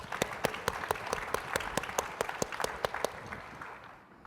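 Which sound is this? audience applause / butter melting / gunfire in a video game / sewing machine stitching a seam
audience applause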